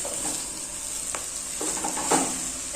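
Toasted bread cubes tossed with masala and sautéed capsicum in a hot pan for chilli bread, with a continuous nearby sizzle and a few soft scrapes of the spatula stirring.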